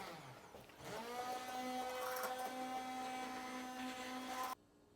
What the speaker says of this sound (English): we are going to use our immersion blender to chop it up a